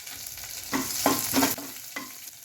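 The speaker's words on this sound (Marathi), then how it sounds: "आपले हे जिरे मोरी आणि लसूण छान परतून झालं आहे त्यामध्ये आता आपण ही हिरवी मिरची टाकून घेणार आहोत" Green chillies hitting hot oil with cumin and garlic, a soft sizzle broken by four or five scraping stirs of a spoon against the pan, close and brief.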